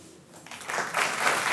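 Applause from a theater crowd rising out of quiet, starting thin and swelling into a fuller, louder spread of clapping over about a second and a half.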